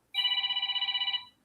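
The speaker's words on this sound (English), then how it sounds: "That's the new phone's timer alarm, Charlie." A new phone's timer alarm sounds a single burst of rapid, evenly pulsed electronic trilling, about a second long and close by, then cuts off.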